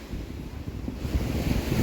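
Sea water washes in over the sand on a beach beside a sandcastle, a short, soft, steady hiss of shallow surf with a faint low rumble and no voices.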